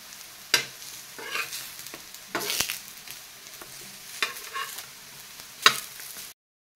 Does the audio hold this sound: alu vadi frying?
yes